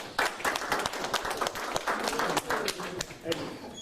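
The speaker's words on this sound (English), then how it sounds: "Round of applause" Scattered applause at the close of an ethics and history panel discussion, with uneven claps and bursts of clapping near the listener as voices talk over them.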